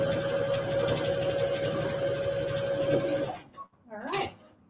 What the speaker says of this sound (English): you can see that conveyor belt like mechanism working as I am sewing